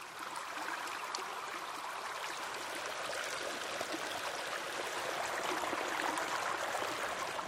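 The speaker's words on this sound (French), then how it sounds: "mais l'eau coulait partout." A stream flows over the ground on the island of Flores, a soft, continuous watery rush and trickle heard from a little distance, faint but steady throughout with no voices.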